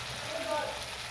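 Marinated chicken hits hot oil and masala while cooking chicken kosha, giving a steady, close crackling sizzle with a faint voice in the background.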